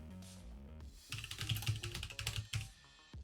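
Rapid keyboard typing during the typing battle royale game Final Sentence, a dense, quick run of clicking keystrokes that starts sparse and grows busy and close, with no talking.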